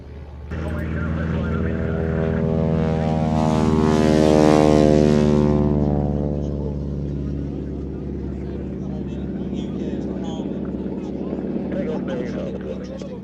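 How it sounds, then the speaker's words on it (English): Propeller aircraft with a direct-drive, short propeller taking off, its blade tips going supersonic: a loud rasping harmonic drone that swells to a peak then fades slowly as it passes, with talk over it. "It's the tips of the propeller blades going supersonic, because it's a direct drive propeller, quite a short throw propeller."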